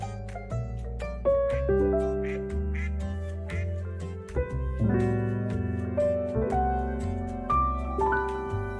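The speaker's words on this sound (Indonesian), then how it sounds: "Bebek, burung puyuh." A duck quacks in the farming game Coral Island, its calls set against steady, tuneful game music that runs through the whole stretch.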